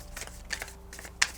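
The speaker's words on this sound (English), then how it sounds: "give me a moment while I shuffle everything together" Oracle cards from a White Rabbit Oracles deck being shuffled by hand, heard as a few soft, papery riffling bursts with short pauses and one sharper snap near the end, quiet and close with no talking.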